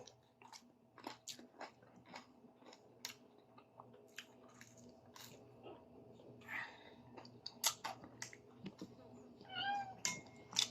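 Several cats meow repeatedly over the sound of chewing and crunching, with faint hushed voices in the background.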